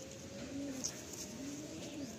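A white male pigeon cooing softly at close range, a couple of low, rolling coos in a quiet setting with no talk.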